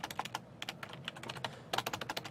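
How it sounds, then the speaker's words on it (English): Fast typing on a computer keyboard during a Python programming lesson, a close run of crisp key clicks in uneven bursts with a brief pause midway and a heavier flurry near the end. "typing skills diminishing"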